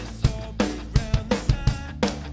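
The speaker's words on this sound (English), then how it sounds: "So the drums currently sound like this." Raw, unprocessed studio drums in a demo recording play a short groove of punchy kick and snare hits with washy cymbals, close and dry.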